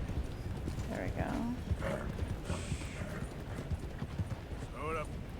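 Horse hooves clip-clop steadily in Red Dead Redemption 2 while someone talks over them, with a short horse whinny or snort breaking through near the end.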